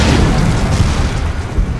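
A loud, booming explosion from a World War II tank battle on the Eastern Front, a deep sustained rumble filling the short clip without any voices.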